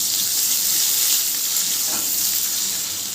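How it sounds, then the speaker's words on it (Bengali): Onions for a boal fish curry frying in a pan until reddish, a constant loud hiss and crackle of sizzling oil with no voices. "এই পেঁয়াজটা একটু লালচে করে ভেজে নিতে হবে"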